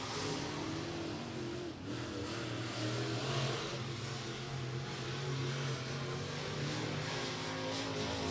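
Race car engine of the K54 machine roars steadily and loudly during qualifying at Beckley Motor Speedway, with a continuous droning note that holds for the whole stretch.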